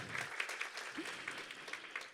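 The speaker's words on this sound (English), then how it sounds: "Let's hear a warm applause to welcome everyone joining us today." A smattering of applause at a research report launch event, moderate and somewhat distant, with clapping bursts coming in uneven waves.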